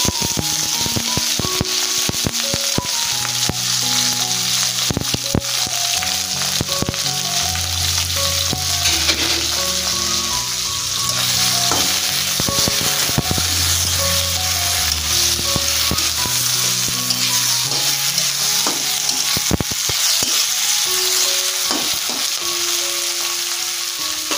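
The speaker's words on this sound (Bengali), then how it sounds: "তেল দিলাম কড়াতে, পেঁয়াজ রসুন আদা কাঁচা লঙ্কা সব কিছু দিয়ে দিলাম।" Onion, garlic, ginger and green chili frying in hot oil in a wok, a steady dense sizzle that runs without a break and sounds close, with no voices over it.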